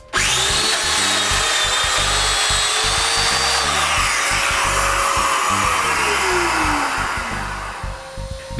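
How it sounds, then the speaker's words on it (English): Power tool with a jig routing mortises in wood for a nine-drawer dresser, one continuous loud close whine with slight pitch shifts as the cut proceeds, easing off near the end. "Now I just need to use my jig and make all the mortises."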